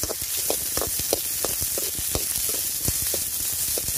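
Big onions and small shallots fry in oil for nombu kanji, a steady hiss of sizzling punctuated by quick stirring scrapes at a regular pace, close and without speech.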